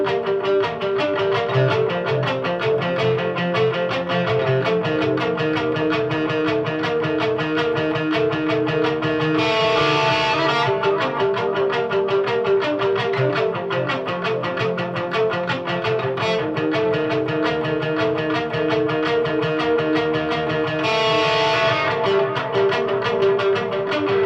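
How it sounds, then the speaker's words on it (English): Electric guitar driven through a Deadweald Audio Duality DX overdrive pedal on its green channel with added tape echo plays sustained, gritty chords and notes for about twenty seconds, loud and continuous with no voices. "But we're going to add a little tape echo."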